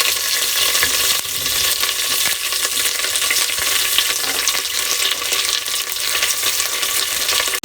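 Steady, loud sizzling of a handful of mint leaves frying in hot oil, crackling continuously throughout with occasional stirring sounds, no voices.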